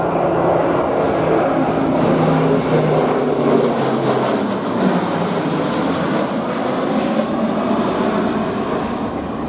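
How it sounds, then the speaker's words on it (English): Airbus A400M turboprop military transport making a flypast at the RIAT 2024 airshow, a loud, sustained propeller and engine roar filling the air steadily throughout without voices. "These larger aircraft like A400M. And so in for the first of its fly pasts."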